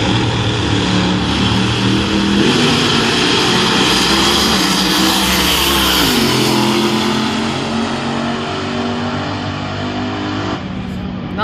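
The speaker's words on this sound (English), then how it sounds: "Front engine dragster, 57 Chevy drag nut funny car." Front-engine dragster and a '57 Chevy funny car launching side by side at a nostalgia drag race, a loud continuous roar of high-revving engines that swells and shifts pitch mid-run before fading slightly.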